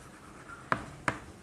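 Marker or chalk writing on a classroom board, two short sharp scratchy strokes a fraction of a second apart, close and fairly clear over quiet room tone.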